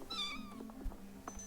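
A cartoonish cat meows in a room-tidying video game, one clear rising and falling mew up close, with a soft background game tone.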